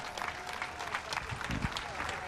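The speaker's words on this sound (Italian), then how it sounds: "L'applauso forte di Etnapolis per Giugas Casella!" Audience applauding for Giucas Casella at a live summer festival show at Etnapolis, dense clapping from a crowd with a voice and some low thumps mixed in.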